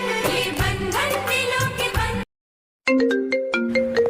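A mobile phone plays a bright, melodic ringtone loop in a home, cut by a short gap of silence before the tune starts again, close and clear with no talking over it.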